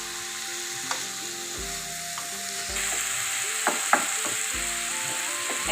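Onion, garlic, chilli and bottle gourd peel sizzle steadily in a pan while a spatula stirs them, with scraping knocks and clicks over the constant frying hiss; no one speaks.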